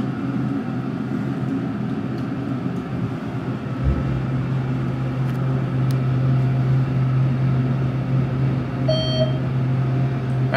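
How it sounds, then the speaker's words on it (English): A modernized ThyssenKrupp hydraulic elevator at the De Anza College pools rises with a low motor hum that starts a few seconds in, buried under constant fan noise, and a short chime sounds near the end. "That fan makes it difficult to hear the motor."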